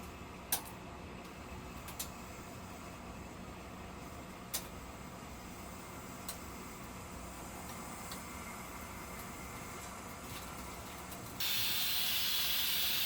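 Red palm oil heating in a cooking pot for okra stew gives a steady low hiss with a few faint ticks and pops, and the sizzle grows brighter and louder near the end.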